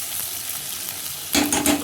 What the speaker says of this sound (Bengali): এখানে পেঁয়াজ ভাজা বসিয়েছি, পেঁয়াজ ভাজাটা একটু টাইম লাগবে ভাজা হতে